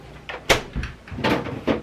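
A refrigerator drawer slides open and shut in a home kitchen, a few short bumps and scrapes spread over two seconds, fairly close with low room noise.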